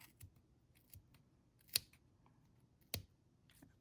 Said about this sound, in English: We're going to cut in this groove all of the strands of yarn.